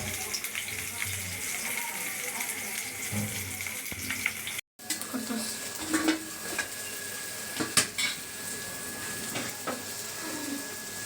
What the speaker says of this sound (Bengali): এই যে আলুর চপ ভাজছি এখন।